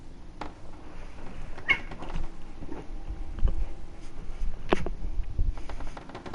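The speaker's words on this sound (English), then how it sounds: "Piglet, there's a cat outside." A cat outdoors gives a few faint, scattered meows amid light rustling and patter, with quiet background ambience and no voices.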